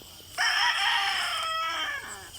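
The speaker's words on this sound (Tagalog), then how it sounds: "Natilawak ng manok sa gubat." A rooster crows once from the forest at dawn, a long, loud call that starts abruptly and trails off over about two seconds, with faint background ambience and no talking.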